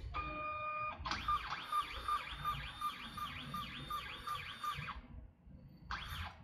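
A Printronix T4000 thermal printer prints and encodes a run of RFID labels, giving a steady repeating mechanical whir with rhythmic squealing pulses for about four seconds, then a pause and a brief restart.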